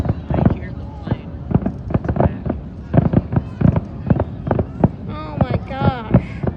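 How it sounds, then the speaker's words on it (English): Fireworks bursting at the Traverse City Cherry Festival, a string of sharp booms and crackles spread irregularly across the stretch, loud and fairly close, with people talking and reacting throughout. "Oh, more fireworks."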